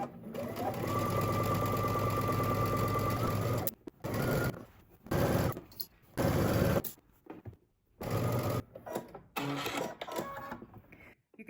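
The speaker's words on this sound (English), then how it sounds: "We're going to head to the sewing machine." A sewing machine runs stitching a 5/8-inch seam on a skirt, starting with one long continuous whirring run, then a series of short bursts separated by pauses.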